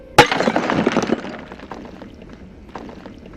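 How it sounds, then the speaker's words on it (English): A glass bottle breaks with one sharp, loud crash, followed by a scatter of tinkling fragments that fade away over a few seconds. "Bottles are tougher, but they will break, particularly when they're full of something expensive."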